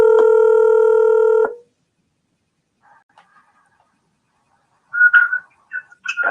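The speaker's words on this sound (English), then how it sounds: "Let me call you on the phone." A phone dials out to call a podcast guest. A steady, loud electronic tone plays for over a second and cuts off, then after near silence a few short chirpy beeps follow.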